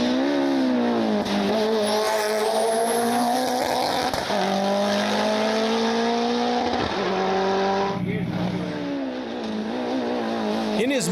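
A Mitsubishi Lancer Evo 9 racing flat out on a timed course, its engine loud and close, climbing through gears with rising revs and brief tyre squeals between shifts, with a voice faintly underneath.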